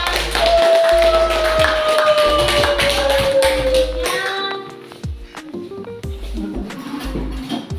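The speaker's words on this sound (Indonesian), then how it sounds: "Oke, silakan beri tepuk tangan." Students in a classroom clap their hands together, a burst of sharp overlapping claps that thins into scattered taps, with a sustained tone fading out midway.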